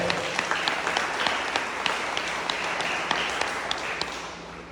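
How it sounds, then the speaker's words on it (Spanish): A church congregation breaks into dense, sustained applause, many hands clapping together loudly and evenly throughout before fading slightly at the end. "Dale fuerte aplauso al Rey de Reyes, por favor."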